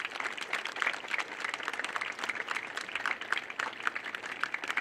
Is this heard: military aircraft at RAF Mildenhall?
no